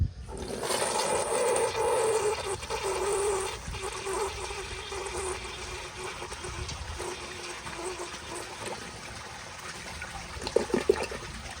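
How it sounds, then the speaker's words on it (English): A 2010 American Standard Baby Devoro toilet flushes with a loud rushing surge of water that gradually eases into a steady swirling drain and trickle, ending with a few gurgles as the bowl refills. "So here is a flush, and let's see how it does with the bowl rinse"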